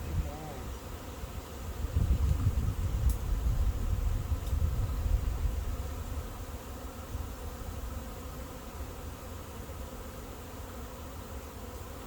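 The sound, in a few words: bee swarm buzzing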